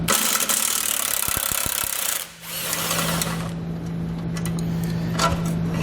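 A ratchet fitted with an 18mm socket works a bolt loose while a base plate is installed on a 2015 Chevrolet, with a few sharp clicks over steady mechanical noise that then settles into a low hum.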